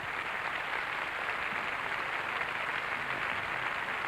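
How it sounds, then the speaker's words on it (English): Faint, distant applause from the audience at the 1978 Eurovision Song Contest, a steady, even wash of clapping from a large crowd, heard alone with no voices. "The applause now for the musical director, first of all."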